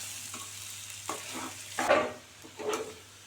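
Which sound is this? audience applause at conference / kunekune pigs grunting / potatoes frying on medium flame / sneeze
potatoes frying on medium flame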